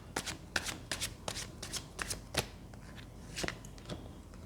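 A deck of angel cards is shuffled in repeated quick riffling bursts, crisp papery flutters close by with short pauses between them and no talk.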